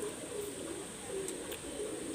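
Young pet pigeons of Teddy and Oman bloodlines giving soft, low coos, a few faint drawn-out calls over quiet background.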